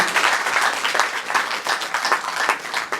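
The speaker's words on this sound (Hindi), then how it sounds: "जिनकी ऐसी इच्छा हो तो जोरदार ताली हो जाए" A gathering of listeners at a spiritual talk breaks into loud, continuous applause, dense clapping from many hands filling the room for three seconds with no talking.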